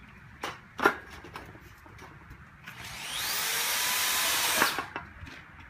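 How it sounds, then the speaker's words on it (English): Self-tapping screws driven into galvanized roofing sheet on a raised garden bed: a couple of taps, then a rising whine of the driver spinning the screw through metal for about two seconds, ending with a short knock. "We just hit the 2 pieces, again with the self-tapping screw."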